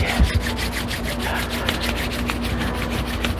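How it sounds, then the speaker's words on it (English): Hands rubbed briskly together during a tai chi and qigong silk reeling practice, giving a steady, continuous dry friction sound with a soft pulsing rhythm for about three seconds, close and alone with no talking. "Start rubbing your hands together."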